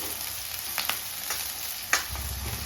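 Sliced onions and curry leaves fry in hot oil in a pan, giving a steady, moderate sizzle broken by a few faint clicks and stirring scrapes.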